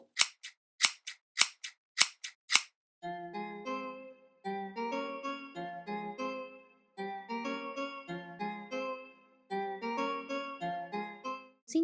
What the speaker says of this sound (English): Instead of cutting them outward, I will just snip.